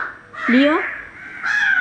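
A crow caws close by with a harsh, rasping call, followed by a second shorter caw.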